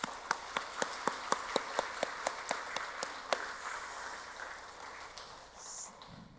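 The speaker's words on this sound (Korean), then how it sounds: "이 시간 우리 감사와 격려의 박수 한번 하겠습니다" Church congregation during a Sunday morning worship service clapping in a steady, synchronized rhythm, about a dozen even beats that soften and dissolve into a faint, scattered patter.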